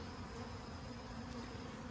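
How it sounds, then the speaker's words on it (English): Honey bees from a good-sized swarm hum at their hive during a honey flow, a faint, continuous buzzing drone with no gaps and no voices. "These bees are heavy workers."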